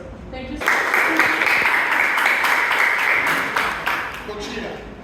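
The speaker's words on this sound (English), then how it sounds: "I would like us also to give a quick clap for Coach Lipiki" A group applauds together for a basketball coach at an outdoor youth training session, steady dense clapping filling most of the stretch at moderate loudness before tapering off near the end.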